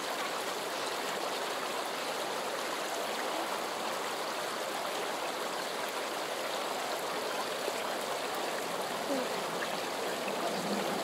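Steady rushing of a flowing stream, a continuous bright gurgle of water close by with no pauses.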